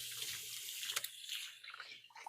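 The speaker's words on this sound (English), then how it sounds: "I'm going to give my hands a quick wash." Water runs steadily from a kitchen tap while hands are rinsed beneath it, a close continuous broadband splash with small shifts in flow and a brief sharper splash midway.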